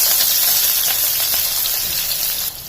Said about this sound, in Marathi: तेल तापल्यानंतर अर्धा टीस्पून मोहरी छान तडतडू द्यायची, मस्त खमंग फोडणी बसली पाहिजे